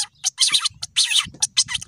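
A quail, known locally as bateer, gives repeated sharp chirping calls in short bursts with brief gaps between them, close and fairly loud, over a low background rumble.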